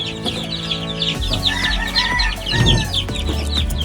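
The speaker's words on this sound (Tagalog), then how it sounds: "medyo maluwag kaya medyo nag-iiyakan pa sila, naninibago" Young chicks cheep and cry in a brooder, with many overlapping high peeping calls in a continuous close chorus and a few louder clucks.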